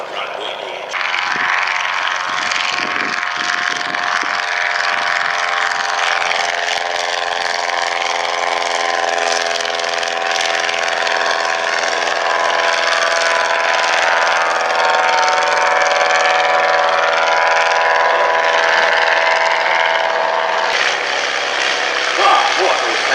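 Vintage aircraft at the Shuttleworth Heritage Airshow, including Stearmans originally fitted with 250-horsepower Pratt & Whitney radial engines, drone steadily overhead with a constant propeller hum, under the voice of a commentator.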